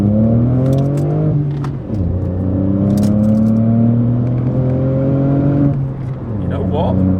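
A Ford Fiesta MK7 with a 1.0-litre EcoBoost engine pulls away from a rolling start in first gear, the engine note rising in pitch, easing at a gear change, then climbing again loud and close from inside the cabin.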